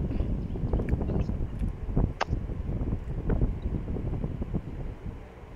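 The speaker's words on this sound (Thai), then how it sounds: "เหมือนคงจะได้ยินเสียงลม" Wind gusts through a video game map, a low rumbling blow with faint rustling and scattered clicks over its short length.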